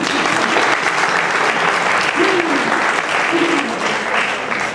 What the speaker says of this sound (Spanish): Un aplauso para esta chica, por favor.